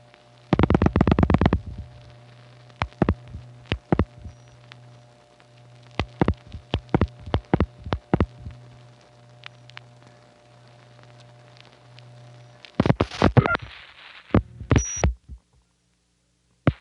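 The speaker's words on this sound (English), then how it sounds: "That pulsing indicates my panel office is setting up the route immediately after I dial this area" A telephone panel office exchange sends revertive pulsing while setting up a long-distance route, heard as bursts of sharp relay clicks over a steady electrical hum, ending with a brief tone.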